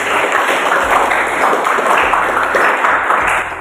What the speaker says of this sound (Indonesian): Kita beri tepuk tangan buat Elvi.